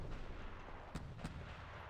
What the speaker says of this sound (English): There goes one CRAM shell.